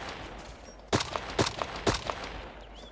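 Three sharp gunshots ring out in a video game shootout, evenly spaced about half a second apart, each followed by a fainter echo over a low background hum.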